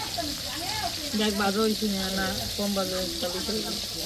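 Food frying in a pan on a home gas stove, a steady sizzle running underneath while someone talks throughout.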